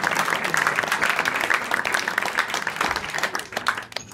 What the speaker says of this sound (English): gentlemen, give a warm round of applause for Chidi.